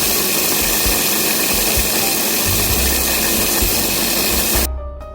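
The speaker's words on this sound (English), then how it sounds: "I'm using my Ninja food processor." A Ninja food processor grinding peppercorns to a powder, a loud, steady motor whir with rattling grit that runs throughout before cutting off abruptly near the end.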